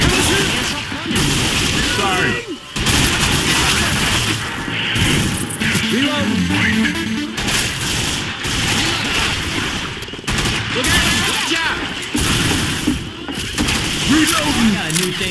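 Dense automatic and shotgun fire with booms in Left 4 Dead 2 on the Swamp Fever campaign, rapid overlapping bursts that are loud and nearly constant, with character voices shouting underneath.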